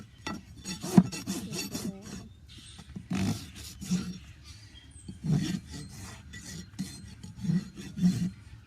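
A hoof rasp files a hoof during hoof trimming, giving irregular coarse scraping strokes in uneven bursts, close and moderately loud, with no talking.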